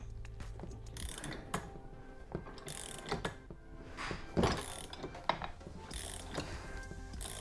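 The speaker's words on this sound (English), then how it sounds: "basically you're just gonna wrench it off" A wrench works a supercharger pulley off its shaft, giving irregular ratcheting clicks and metallic knocks with a few sharper pops, close and fairly quiet, without speech.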